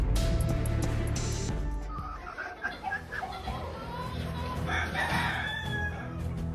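Spanish chickens with fluffy white crests crow and cluck in a lively, overlapping run of calls, loud and close, with busy outdoor background noise throughout.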